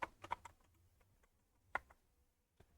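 Someone types on a computer keyboard while writing code, producing a few faint, scattered key clicks with gaps between them in a quiet room.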